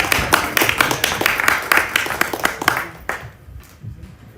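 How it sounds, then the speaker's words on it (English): Rhythmic clapping from a small audience welcoming a woman at an event, fairly close and loud, dying away into quiet after about three seconds. "But with her rounds of applause"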